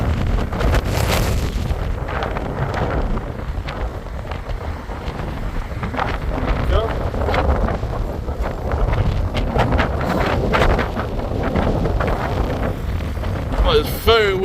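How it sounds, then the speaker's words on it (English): Strong gusting wind on a seaside promenade during a storm warning in Blackpool, roaring loudly across the microphone with heavy buffeting rumble throughout, while a person talks over it. "It's very windy on the promenade today."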